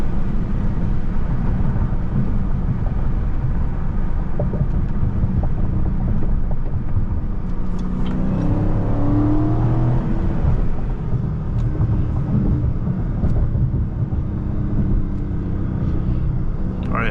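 Supercharged Dodge Charger Scat Pack Widebody engine revving up in a loud, steady drone with supercharger whine and wind buffeting the microphone, pitch climbing in a rising sweep around the middle before settling back.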